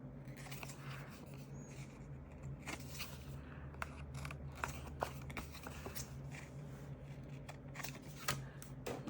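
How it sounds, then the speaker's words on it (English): Scissors snipping planner stickers, a series of small sharp crisp cuts and paper rustles at close range, irregularly spaced over a low steady background hum. "I just grab up some scissors and do the, like I just cut off these little stickers that hung over."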